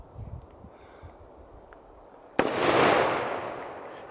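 A single loud gunshot cracks at an outdoor shooting range and is followed by a rolling echo. Quiet movement and faint ambient noise come before it.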